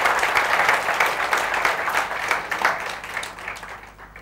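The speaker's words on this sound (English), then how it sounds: "we should all give a big round of applause for all these wonderful speakers" Audience at a summit applauds a group of speakers, a dense, sustained wash of many hands clapping that gradually thins and fades toward the end.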